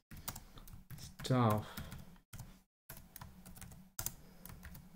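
Computer keyboard keys tapped in quick bursts while code is typed, close and clear, with someone speaking briefly between the keystrokes.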